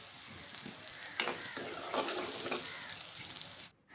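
Soybean chunks frying in hot oil for a curry make a quiet, continuous crackling sizzle with a few sharper stirring bursts, ending in a sudden drop to near silence.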